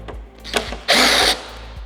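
A Torx T25 driver works the windshield screws free on a Harley-Davidson Street Glide, giving a few brief close clicks and ratcheting ticks, then a loud whirring burst of nearly half a second.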